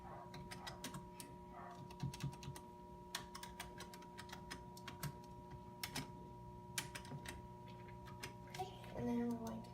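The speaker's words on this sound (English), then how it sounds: "we're going to type in lateral abdomen" Crisp keystrokes on a computer keyboard while entering text in radiology software, scattered taps in short bursts over a steady background hum.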